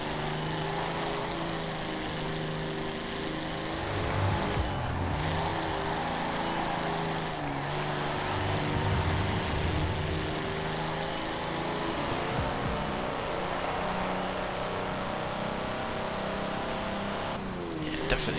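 A car accelerating uphill in the racing game Forza Horizon 4, modified with wider tyres and tuned suspension; a steady droning engine tone climbs gradually through the gears under someone talking.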